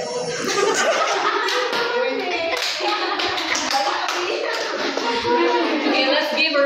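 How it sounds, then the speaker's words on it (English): Classroom audience clapping steadily for a group presenting a performance task, with scattered chuckles and murmured talk mixed into the dense, continuous applause. "let's give a round of applause"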